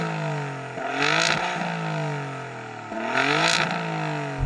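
Sports car exhaust, on a BMW M4 CSL or Alfa Romeo Giulia GTA, blips twice in loud sharp revs that climb and fall between steady idling, heard up close.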